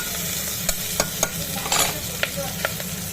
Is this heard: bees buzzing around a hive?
no